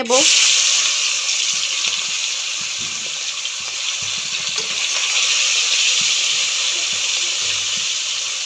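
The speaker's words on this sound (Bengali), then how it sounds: "এখন আমি মাছ ভেজে নেব" Oil sizzles and crackles steadily as khalse fish fry in a pan, a loud continuous hiss throughout.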